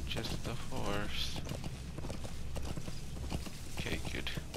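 Horse hooves clip-clop at a steady walking pace alongside a brief whinny in the video game Metal Gear Solid V: The Phantom Pain, while a voice talks over the scene.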